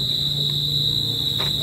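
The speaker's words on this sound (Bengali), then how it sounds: "চুপ করে শোনাচ্ছি তোমাদের ঝিঝি পোকার ডাকটা" Crickets chirping in one steady, unbroken high-pitched trill that carries at moderate loudness throughout, with no voices over it.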